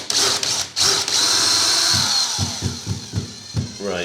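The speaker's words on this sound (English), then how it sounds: "we're just going to tentatively just go gently through on all of these marks that we've just made" A power drill whirs up close and loud as it drills gently through a ceiling at marked downlight positions, with a steady motor whine that stutters into pulsing bursts partway through.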